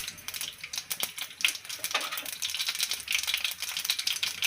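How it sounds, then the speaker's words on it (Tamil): Mustard seeds spluttering in hot oil while tempering for a sweet raw mango pachadi, a dense, continuous crackle of sharp pops and sizzle, steady and close throughout. "கடுகு நல்லா பொரியட்டும்."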